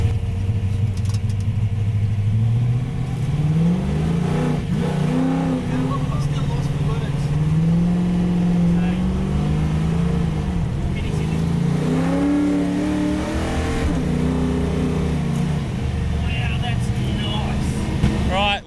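A Ford XA GT Falcon engine rumbles and revs while driving in the rain, rising and falling in repeated surges from inside the car, with voices talking over the engine throughout.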